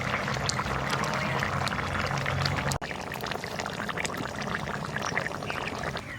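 Ghee goes into a soya chunk kofta curry on the stove, producing a steady, close, bubbling pour-like wash of sound with a brief break midway.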